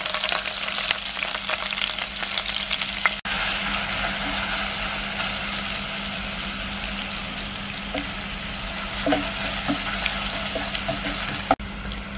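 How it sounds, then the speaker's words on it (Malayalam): Curry leaves and finely chopped ginger frying in hot oil with mustard seeds for a garlic pickle, giving a steady loud sizzle and crackle throughout with a few sharp pops and clinks, no voices. "ഇനി നമുക്ക് ഇതിലേക്ക് കറിവേപ്പില ഇട്ട് കൊടുക്കാം. ഇതിലേക്ക് ഇഞ്ചി ചെറുതായി അരിഞ്ഞത്,"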